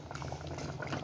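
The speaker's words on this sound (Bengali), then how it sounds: "এই বাটিতে ঢেলে নেব আমি।" Thick potato and tomato curry with egg, made without spices, poured from a pot into a bowl: a short wet bubbling, gurgling pour, close and fairly quiet.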